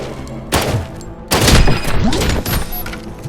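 Gunfire in the RoboCop: Rogue City video game, loud close heavy shots with thudding impacts, two or three bursts in quick succession over a few seconds.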